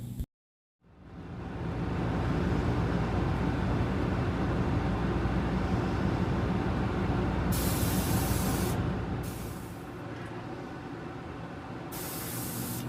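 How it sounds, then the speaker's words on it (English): Airbrush spraying red paint onto a handmade crankbait fishing lure, a steady close hiss that starts abruptly and runs continuously, with brief higher bursts of airy spray near the end. "Now when I spray the red up into that gill, I sprayed in one direction."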